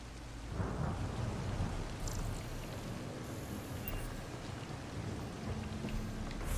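Steady heavy rain with deep rumbling thunder in the video game Mass Effect: Andromeda, an even hiss of falling water and a low rolling rumble that carry on throughout at a soft overall level.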